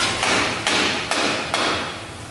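Four sharp hammer blows driving a rear axle seal into place land at a steady pace, each a bright metallic crack with a short ringing tail, close by and loud.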